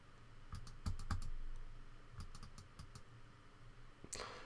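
Computer mouse clicks on a website map, with sharp close taps coming in quick bunches of two and three, then a short pause and a final cluster, quiet and alone with no talking.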